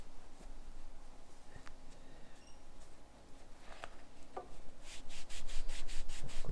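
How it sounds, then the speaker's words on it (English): Brush scrubbing alcantara car trim, close soft rubbing and scratching strokes, quiet at first, then building into a rapid run of rhythmic brushy swishes near the end. "Give that a good scrub."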